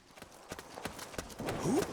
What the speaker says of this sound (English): Hear those footsteps?